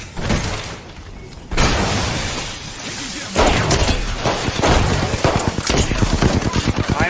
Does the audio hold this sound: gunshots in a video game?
yes